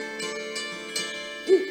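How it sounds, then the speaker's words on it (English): An owl hooting from high in trees at a meadow's edge on a cold moonlit night, a single soft hoot rising near the end over a steady tonal background, no talk. "The owl's call came closer, from high up in the trees on the edge of the meadow."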